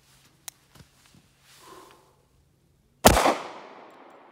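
A .40 Smith & Wesson round fired from a 10mm 1911 pistol cracks out as one sharp, loud report with a brief ringing tail, after a few faint clicks and handling noises.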